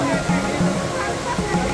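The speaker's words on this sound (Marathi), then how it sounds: "हा आहे जंगलाच्या मधोमध या डोंगराच्या कातळ कड्यांवरून कोसळणारा पांढऱ्या शुभ्र तुषार" Vibhuti waterfall in dense forest in coastal Karnataka plunging over rocky cliffs, a steady, close and loud rush of water with a voice narrating over it.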